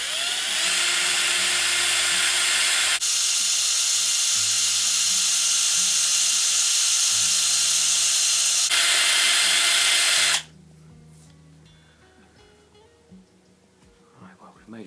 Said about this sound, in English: let's see if we can get it started with a carbide drill